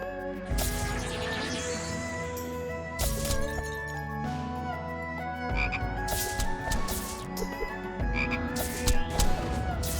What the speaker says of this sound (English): Got some frogs